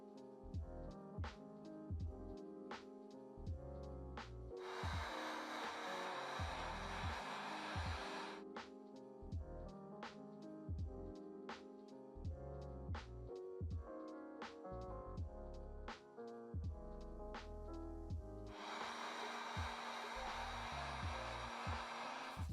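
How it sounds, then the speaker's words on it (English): A heat gun dries light paint coats on the midsoles of a trashed Jordan 3 Black Cement sneaker, roaring in two loud bursts of a few seconds each over rhythmic background music. "I'm applying light coats and using a heat gun to speed up the process"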